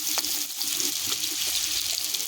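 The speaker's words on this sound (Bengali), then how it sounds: "তেল গরম হয়ে গেছে" Potatoes fry in hot oil for a goat tripe curry, a steady, close bright sizzle with small pops and crackles and no voices over it.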